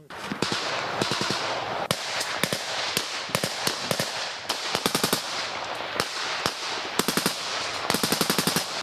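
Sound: gunfire, bullets and grenades flying toward positions

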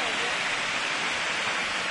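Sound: La Concepción waterfall in Aculco, Mexico

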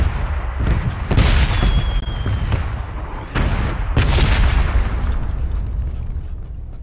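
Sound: explosion in the video game PUBG

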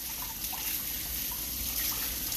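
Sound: tap water running while washing hands at kitchen sink

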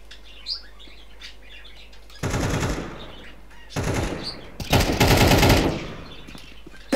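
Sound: gunfire in video game Counter-Strike 2

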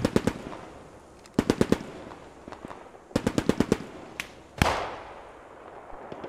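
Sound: submachine gun fire in video game Squad 44

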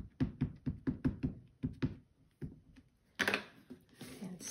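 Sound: rubber stamp stamped onto paper in stamp positioner

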